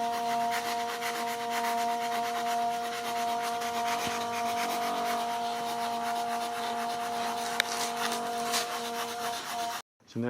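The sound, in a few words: cutting away wood on RC model plane build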